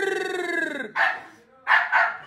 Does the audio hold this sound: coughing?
no